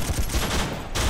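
Machine gun fire during a military assault on bunkers, a loud, continuous rattle of rapid shots with a brief dip near the end before the firing resumes, with no voices over it.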